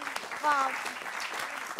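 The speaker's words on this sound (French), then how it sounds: "On peut applaudir." Studio audience applause on the French talk show C'est mon choix during a record-attempt segment: a fairly quiet, steady patter of clapping, with a person's voice speaking briefly over it.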